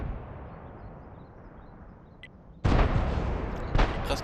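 Two heavy cannon blasts from a tank video game, the first after a quiet stretch and the second a second later, each a loud, booming burst over steady background game noise.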